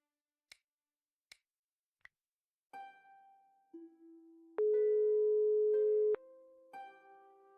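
Phone call tones from the video game Broken Sword 5: three short clicks, then a series of clean electronic beeps and a long steady ringing tone, alone with no talk.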